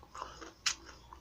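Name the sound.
biting into food during a roasted chicken ramen mukbang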